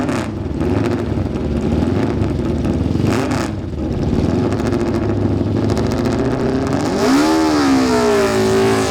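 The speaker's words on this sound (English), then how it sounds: "Sealys always seem to have that high exhaust." A Seeley racing motorcycle with a high exhaust at the Isle of Man Classic TT, its engine roaring loudly and steadily before revving up into a rising, wavering howl as it pulls away.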